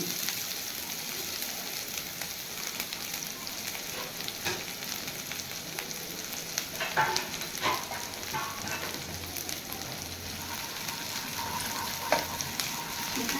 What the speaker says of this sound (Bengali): এরপরে আমি অল্প পেঁয়াজ ভেজে নেবো